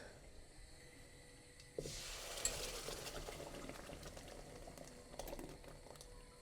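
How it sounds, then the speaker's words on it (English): Oil crackles quietly, then a sudden loud sizzle as bean curry puree hits the hot pan, settling into a steady, bubbling frying hiss with no voices. "so when the puree goes in, it kind of sizzles up"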